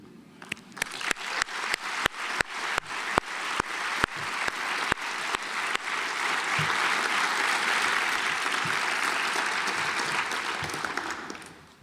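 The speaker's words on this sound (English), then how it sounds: "I'd now like you to join me in a round of applause for those family and friends who are here supporting you today" An audience at a medical school white coat ceremony claps for family and friends, beginning with scattered sharp claps that swell into full, sustained applause filling the hall before tapering off.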